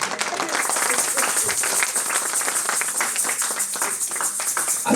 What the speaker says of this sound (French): est-ce qu'on peut donner une main d'acclamation à ça?